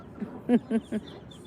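Three short, soft quacks from a duck in quick succession, fairly faint over quiet outdoor background, among a mother duck and seven ducklings.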